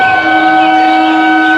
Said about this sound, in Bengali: মানে প্রিন্সেপ ঘাট থেকে ইডেনে ঢুকছে ট্রেনটা